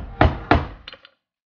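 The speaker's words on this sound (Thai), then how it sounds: "ใช้ตะปูตอกลงไปบนพื้นผ้าดิบทั้งด้านข้างและด้านล่างให้เกิดความตึงที่พอดี" Hammer driving nails through raw cloth stretched over a wooden frame for painting a Thai likay stage backdrop: two loud, close, sharp blows followed by two lighter taps, then silence.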